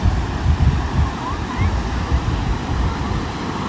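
Ocean waves wash on the shore in a continuous low rumble with gentle surges, mixed with wind buffeting the microphone. No one speaks.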